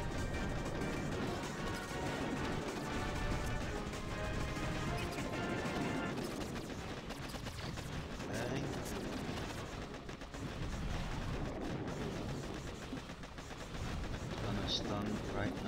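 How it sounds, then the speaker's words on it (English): Doom Cannon barrage explosions in the mobile strategy game Boom Beach, on a Mega Crab stage: a dense run of booms, crashes and gunfire-like cracks that goes on for about fifteen seconds, with game effects layered over it. "I'm gonna actually barrage with three Doom Cannons, because those will really hurt me."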